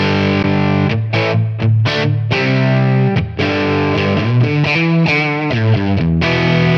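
Electric guitar through a Tonex amp model on the 44 watt setting with boost, a loud, driven, distorted tone playing a riff of chords and single notes with short gaps, heard alone.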